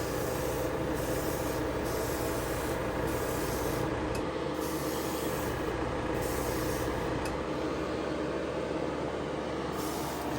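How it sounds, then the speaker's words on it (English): Steady, continuous hiss of an airbrush with a 0.5 needle spraying 2K clear coat, broad and unbroken for the whole stretch, with a low hum underneath. "Great airbrush, atomizes the paint extremely well."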